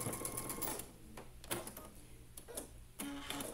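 A sewing machine stitches rows of a star quilt block together, its rapid mechanical whirring running in short bursts separated by brief pauses, close and moderately loud with no talking.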